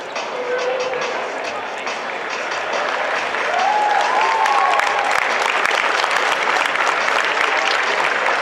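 Sustained audience applause for contestants at a cosplay championship in Perth, a steady dense wash of clapping that swells slightly louder partway through, with faint voices mixed in.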